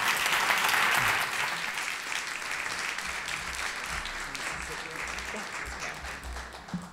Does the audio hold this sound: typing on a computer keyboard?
no